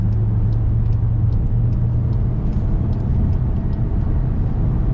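A Volkswagen Tiguan AllSpace engine revving toward 6000 RPM, heard as a loud, sustained rumbling hum from close by, with no voices.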